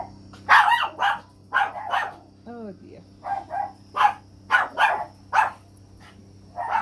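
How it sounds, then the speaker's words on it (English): Dogs barking in a series of short, sharp bursts, repeating irregularly at close range against a low steady hum. "They decided to bark now."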